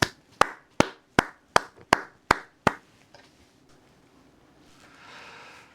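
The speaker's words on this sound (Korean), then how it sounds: "하나님께 영광의 박수 올려드립니다." Worship congregation in a church clapping in unison, eight sharp, evenly spaced claps close and loud, followed by quiet room tone.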